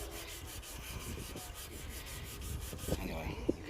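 Hand sanding of an Austin Maxi engine bay using 120-grit wet-and-dry paper: continuous close rhythmic rubbing and scraping strokes with a faint clunk near the end, no talking.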